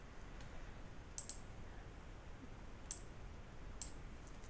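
Computer mouse clicks, a few faint, crisp single and double clicks spaced apart over a low steady background hiss.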